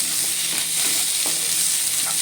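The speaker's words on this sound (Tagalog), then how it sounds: "kailangan fried muna natin ito guys na walang oil. Para sa ganun ay crispy siya." Pickled green mustard dry-frying in a pan without oil, a close, continuous bright sizzle with faint scraping of stirring underneath and no voices.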